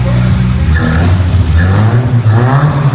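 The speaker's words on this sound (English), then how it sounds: "Let's start the car." A 1978 Chevy Monza Spyder engine fires up and revs hard nearby, loud and throaty, with rising and falling pulls across a few seconds and no voices over it.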